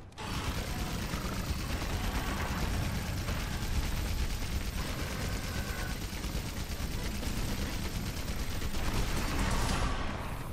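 A heavy bowgun's special machine-gun fire rattles continuously in the video game Monster Hunter World, a dense, steady stream of rapid shots lasting the whole stretch with a mechanical clatter, no voices over it.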